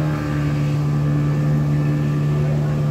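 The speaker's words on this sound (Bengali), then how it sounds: "মুস্কান, আমরা এই যে আমাদের স্পিড বোট" Steady engine drone of a speedboat running on open water at a holiday park in Narsingdi, a constant low hum with a strong tonal note held throughout, close and loud, with people talking faintly in the background.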